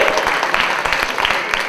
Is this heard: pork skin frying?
no